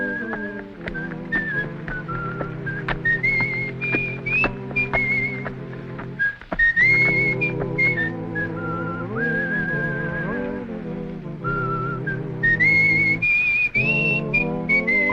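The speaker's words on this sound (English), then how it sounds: "You the guy that was whistling?" A man whistles a lively tune in a frontier-town Western setting, a clear melodic whistle running continuously and fairly close, with no talk over it.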